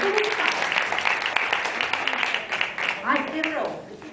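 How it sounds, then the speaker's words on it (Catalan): Audience applause at a school music concert for fourth-year music language students, brisk clapping from a crowd with voices mixed in and a call rising over it toward the end. "Endavant, un aplaudiment per ells."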